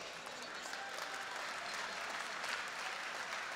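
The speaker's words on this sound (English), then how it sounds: "ils méritent encore une fois vos applaudissements" Applause from the audience at a Muay Thai event, -65 kg superfight between a French and a Thai fighter, a dense steady wash of clapping that sounds fairly distant and fills the whole stretch.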